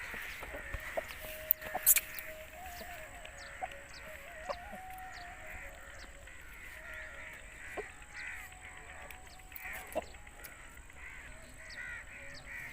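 An Aseel rooster crows several times at a moderate distance, with drawn-out calls between scattered clucks and a few sharp nearby knocks.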